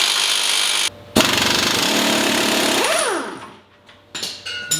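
Impact wrench or similar power tool hammering loudly on the pinion nut of a Dana 30 front axle from a 1972 International Scout, with a sustained rattling burst, a brief pause, then spin-down and clanks, close up.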